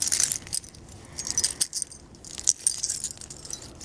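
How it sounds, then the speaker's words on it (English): A bunch of keys jangles in the hand, bright metallic clinks coming in several close bursts with short pauses, no talking. "Got a mess of keys here."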